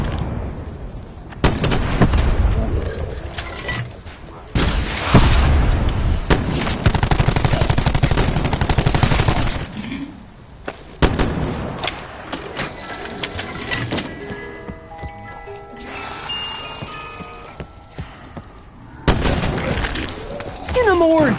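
The Rustman Special firing in Call of Duty 4 Zombies: loud bursts of gunfire in dense stretches, separated by quieter gaps, with someone talking over much of it.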